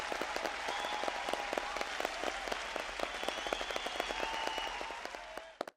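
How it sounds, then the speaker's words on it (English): Audience applause at a university graduation ceremony, dense steady clapping with sharp individual claps standing out nearby, continuing for several seconds before quickly dying away at the end. "Let's give all those supporters a big round of applause."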